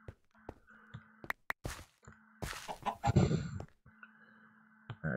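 Chickens in the Minecraft Stoneblock modpack video game cluck repeatedly in short pitched calls, mixed with clicks, footsteps and a burst of flapping or game effects, near and moderately loud.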